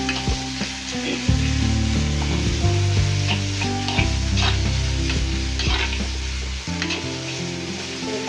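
Onions sautéing with rock salt in a pan for prawn gravy, a steady close sizzle with stirring scrapes throughout, heard over continuous background music and with no talking.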